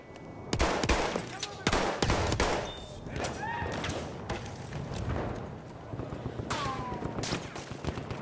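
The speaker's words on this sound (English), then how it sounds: "Düşman makine tüfeği." Enemy machine gun firing in a Battlefield 1 multiplayer match, a series of sharp, separated shots and bursts at moderate distance with a voice speaking over the battle noise.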